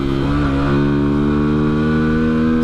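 A Hero XPulse motorcycle's single-cylinder engine drones steadily while riding on the Himalayan Expressway, loud and close with a sustained humming tone and a slight shift in pitch early on.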